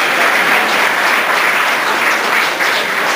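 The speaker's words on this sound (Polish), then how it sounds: "I duże brawa za poczucie humoru" A large audience at the Perły Kaszub gala breaks into loud, dense applause, a continuous wash of many clapping hands heard up close and sustained throughout, with no voices standing out.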